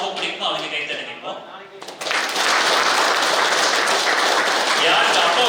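Audience at a kabaddi umpire clinic motivational class clapping; applause swells to a loud, steady wash after a quieter, talk-laden opening.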